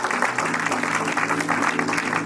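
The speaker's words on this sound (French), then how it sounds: "Acclame très fort Jésus." A church congregation claps and cheers loudly for Jesus, dense sustained applause filling the room throughout, with voices mixed into the crowd noise.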